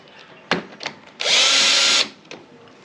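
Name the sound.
power tool unscrewing a bolt on a Bajaj Pulsar NS200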